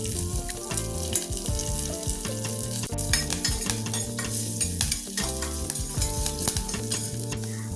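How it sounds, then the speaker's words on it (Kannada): Curry leaves, green chilies and garlic sauté in hot oil for a moringa dal, a dense continuous sizzle with rapid spoon-stirring clatter against the pan, close and steady throughout. "ಅದಾದಮೇಲೆ ಕರಿಬೇವಿನ ಸೊಪ್ಪು ಹಾಗೆ ಹಸಿಮೆಣಸಿನಕಾಯಿ ಮತ್ತು ಬೆಳ್ಳುಳ್ಳಿನ ಹಾಕ್ಕೊಂಡು ಚೆನ್ನಾಗಿ ಬಾಡಿಸ್ಕೋಬೇಕಾಗತ್ತೆ"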